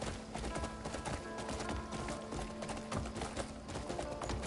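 Horse hooves gallop steadily in the video game Crimson Desert, a continuous rapid clip-clop rhythm that is close and fairly loud, with a busy game soundscape underneath.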